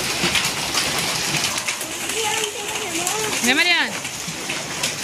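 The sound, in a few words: heavy rain falling on a farm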